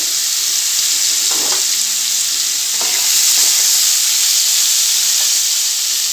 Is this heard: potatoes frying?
yes